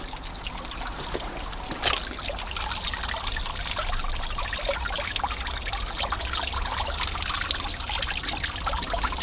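Water runs steadily over a GoPro camera, a close, loud, continuous rushing splash with fine trickling detail and a single knock near the start, no voices.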